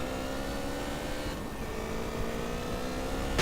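A motorcycle engine in GTA with the PCH mod hums at a steady, fairly quiet drone, with a slight dip in tone midway before it holds again.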